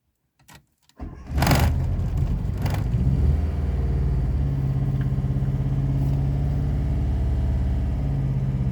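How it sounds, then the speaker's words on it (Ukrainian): An MTZ tractor engine cranks, then catches and settles into a loud, steady diesel idle after a few faint clicks at the start. "Нуся, ну заведеться чи ні, воно довго не заводилося. Почти завелась"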